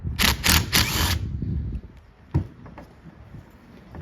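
A ratchet wrench works the 13mm nut on the wiper motor of a 2003-2009 Dodge Ram. A quick run of crisp ratcheting clicks is followed by a single knock, then near quiet.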